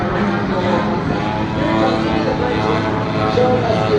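A fully aerobatic radio-controlled model airplane flies a noontime demo at the Joe Nall event, its steady propeller engine drone sustained and fairly loud throughout, with voices and crowd noise mixed underneath.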